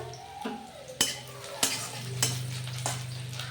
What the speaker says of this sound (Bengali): পেঁয়াজটা দেখো এটা হালকা হালকা ভেজে নিলাম দুটো কাঁচা লঙ্কা দিয়ে দিলাম